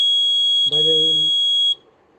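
Buzzer on a student sensor project beeps as someone approaches: a steady, loud high-pitched tone runs for about a second and a half, while a voice briefly speaks over the first part before the buzzer cuts off.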